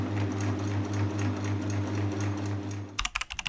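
Sewing machine top stitching folded bias binding in place on a garment made from blankets, a steady close whirring hum that runs alone for about three seconds, then stops with a few light clicks.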